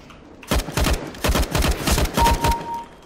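Gunfire in CS:GO, rapid bursts of close, loud automatic shots in several clusters with short gaps between them.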